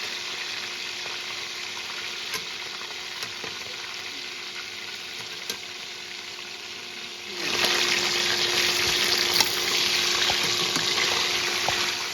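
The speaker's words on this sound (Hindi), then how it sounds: "दूसरी साइड भी इनको हम अच्छे से फ्राई कर लेंगे कलर चेंज होने तक" Chicken pieces for Kashmiri liss te kokur fry steadily in a pan, a continuous close sizzle that swells louder partway through as the pieces are turned, with no talking.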